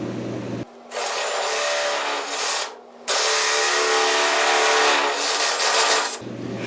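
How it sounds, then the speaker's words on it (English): A power drill bores out a hole for fitting the rear bumper on a roundtail Triumph Spitfire under restoration, running in two loud, close, sustained grinding bursts separated by a short pause. "That's drilled out."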